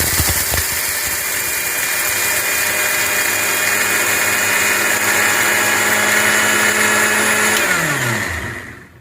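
Electric kitchen grinder whirring steadily as it grinds coconut pieces with cardamom into fine powder, loud and continuous for about eight seconds before the motor winds down and stops.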